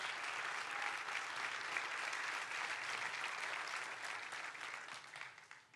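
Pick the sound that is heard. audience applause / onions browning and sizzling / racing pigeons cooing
audience applause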